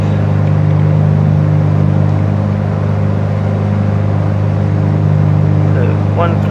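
Piper PA28 Arrow engine running steadily during pre-flight power checks, a loud, close, constant droning hum with strong low tones and no clear change in pitch.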